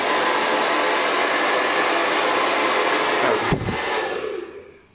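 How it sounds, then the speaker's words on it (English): A GHD hairdryer blows steadily and loudly at close range while drying hair, a continuous broadband whoosh that cuts off abruptly near the end and then fades away. "GHD hairdryer, the best in the business."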